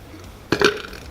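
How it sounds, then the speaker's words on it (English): A single close, loud burp follows a dirt-eating food challenge, short and abrupt with a brief rumbling tail. "I got the dirt burps."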